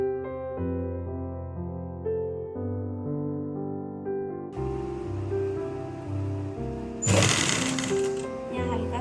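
A sewing machine runs steadily, stitching the elastic waistband of a pair of trousers, under background music, with a louder burst of rattling stitching near the end.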